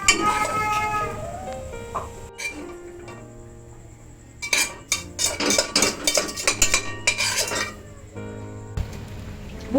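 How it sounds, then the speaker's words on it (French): Cod being stirred in a cooking pot with a utensil, giving a burst of rapid metallic clinks and scrapes in the middle. Quieter kitchen sounds and speech come before and after. "mélanger avec la morue"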